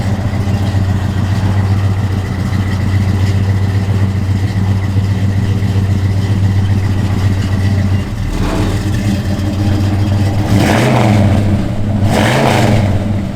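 A 1972 Chevrolet C10 truck engine idles with a steady low rumble, then revs up sharply twice near the end, loud and close.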